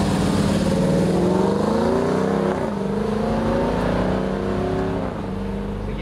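Dodge Durango SRT family SUV with a 6.4-liter 475-horsepower V8 accelerating hard on a speedway, a loud continuous engine roar climbing through rising pitch sweeps with brief dips at gear changes, no voices.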